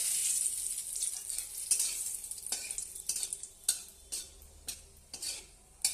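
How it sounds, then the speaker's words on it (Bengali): Dried red chillies fry in mustard oil in a wok, giving a steady bright sizzle with repeated sharp scraping clicks of a spatula stirring against the pan, close and alone. "আমি সর্ষের তেল দিয়ে দিলাম কড়াইতে, দিয়ে দিচ্ছি দুটো শুকনো লঙ্কা"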